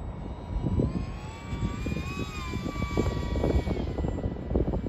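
A modded FT Spear RC model airplane flies overhead, its whining electric motor rising and falling in pitch as it passes at a moderate distance, over steady rumbling wind noise on the microphone, with no talk.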